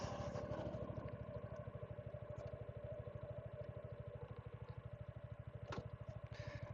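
A Suzuki V-Strom 250SX motorcycle being ridden with a manual clutch and gears, its engine throbbing in a fast, steady rhythm close by throughout, with a brief clatter near the end.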